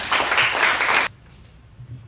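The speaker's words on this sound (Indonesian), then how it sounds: "sekali lagi kita tepuk tangan untuk kalian" A classroom group applauds students at the end of a lesson, a brief dense burst of clapping for about a second that cuts off abruptly, leaving a quiet room with faint background noise.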